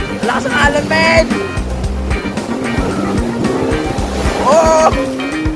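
Strong ocean surf at Boracay beach, waves breaking and washing steadily throughout, with excited voices shouting over the roar.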